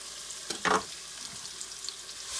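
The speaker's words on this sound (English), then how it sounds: "we're going to get the onions into our pot with a little bit of oil" Onions go into a pot with a little oil for tomato basil soup, giving a soft, steady sizzle with a brief louder burst near the start, faint and close, with no talk.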